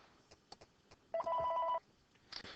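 A telephone rings once with a clear electronic warble lasting over half a second, moderately loud against a quiet room with scattered faint clicks.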